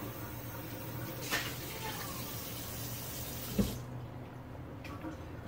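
Food is rinsed under a running kitchen tap while a black bean and Spanish rice burrito filling is made. Water flows in a soft, steady stream with a couple of faint knocks, then quietens near the end.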